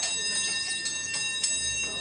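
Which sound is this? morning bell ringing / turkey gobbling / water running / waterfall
morning bell ringing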